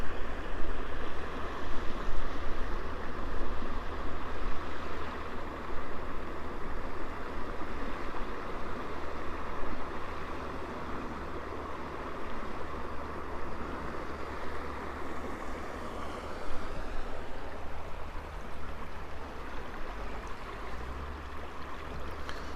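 Waterfalls and a natural stream feeding a man-made lake, a steady broadband rush of flowing water, constant and fairly close with no voices.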